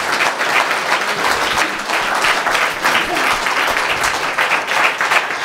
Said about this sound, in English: I want you to give this man a round of applause.